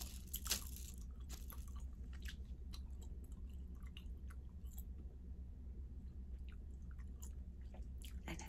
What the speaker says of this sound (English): It's gonna be an all cracking gum, okay?